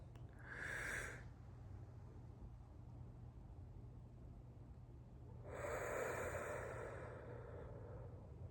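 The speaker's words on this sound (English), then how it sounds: "we're gonna take a deep breath" A slow, deep breath drawn in during a calming exercise, heard as soft airy rushes, one brief and one longer, faint over a low steady hum.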